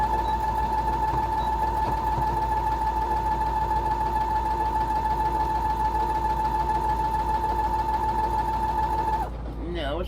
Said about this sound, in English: I really want to be able to run that machine right over it